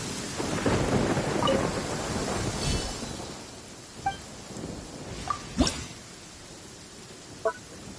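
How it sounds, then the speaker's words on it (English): Heavy downpour in a video game, a dense steady hiss of rain with thunder rumbling and rolling through the first seconds, then sharper crackles and a few distinct drops and clicks standing out against the rain. "Taking a stroll in the middle of a downpour certainly rouses the spirit."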